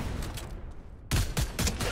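Bursts of gunfire in a Fortnite Duos match, a short volley, a brief lull, then a louder rapid string of shots close by, with no talk over it.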